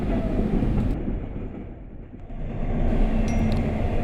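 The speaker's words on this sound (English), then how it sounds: "There's Norfolk Southern 175 going to Jacksonville. We're at Howell Road. Engine just passed." Norfolk Southern freight train rolling through a road crossing after the locomotive has passed, a loud continuous rumble of railcars with a brief dip midway before the rolling noise swells again, no talk.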